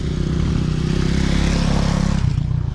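A motorcycle ridden close by, its engine a steady, loud low drone with a throbbing rumble that holds evenly and shifts slightly near the end, with no voices over it.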